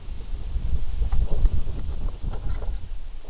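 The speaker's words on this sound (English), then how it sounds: "Perfect time for a gust of wind to come through." A gust of wind hits outdoors before a drone flight: loud, low rumbling wind buffeting the microphone for several seconds, steady with surging peaks and no talking.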